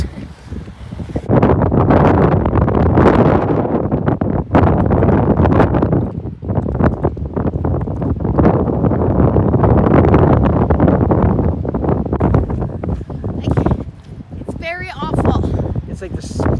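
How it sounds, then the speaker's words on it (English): Strong gusts from Hurricane Lee in 2023 roar across the microphone near a harbor, a loud, sustained buffeting that swells and eases, while voices can be heard faintly underneath. "when the gusts come, it is really windy."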